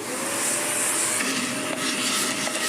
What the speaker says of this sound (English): so we'll just vacuum off what we can